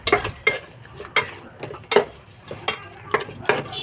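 Biryani masala mixed with a cup of curd being stirred in a pot, a spoon scraping and knocking in a steady rhythm of separate strokes roughly every half second, close and fairly loud.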